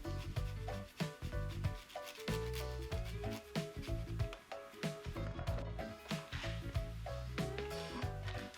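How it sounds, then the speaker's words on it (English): Ground turkey mixed by hand with onions, garlic, cheese, herbs, egg, salt and pepper, giving close, steady squishing and rubbing over background music, with no talk. "then mix it all up with your hands"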